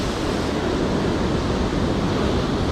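Waves break and wash along a sea shore where lure fishing for sea bass goes on, a steady, loud, close wash of surf and wind with no clear breaks.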